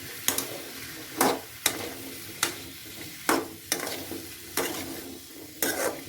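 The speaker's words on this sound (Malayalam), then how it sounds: "നമ്മൾ മുറിച്ച് വെച്ച മത്തൻ അതിലേക്ക് ചേർക്കാം. ഇതൊന്ന് ജസ്റ്റ് ഇളക്കി കൊടുക്കാം." Cut pumpkin stirred in a pan, a utensil scraping through the pieces in about eight distinct strokes over a soft, steady sizzle, each scrape loud and close.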